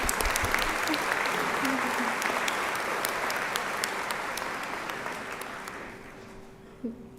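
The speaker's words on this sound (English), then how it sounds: "we can clap for that" An audience at a high school graduation breaks into applause, many hands clapping steadily and then gradually thinning and fading out, with a brief voice near the end.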